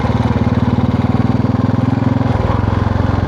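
A motorcycle engine brakes in gear on a downhill stretch of a rural road, giving a steady, close, loud low-pitched throb with a constant pulsing rhythm. The pitch drops slightly near the end.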